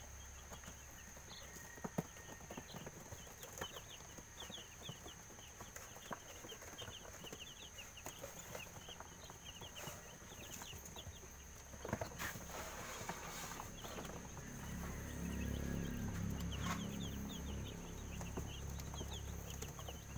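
Young chicks clucking and peeping around their feed tray on a farm, faint scattered calls over a quiet outdoor background with occasional soft knocks and a low rumble later.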